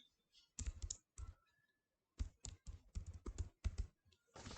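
Typing on a computer keyboard, close and clear, with quick clusters of clicky keystrokes separated by short pauses, no talking over it.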